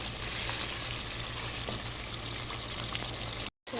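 Whole garlic cloves fry in oil in a karahi while a Pakistani-style chicken karahi is cooked, giving a steady close sizzle with a brief dropout near the end.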